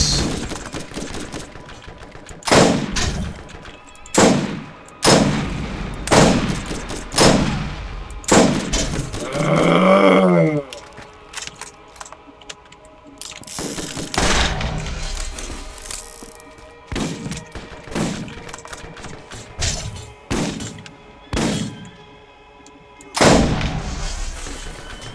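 Merv grenade blasts and gunfire from Borderlands: a rapid string of loud, sharp explosions and shots, some in quick clusters, with a brief whirring burst mid-sequence and heavy thuds scattered throughout, no talk.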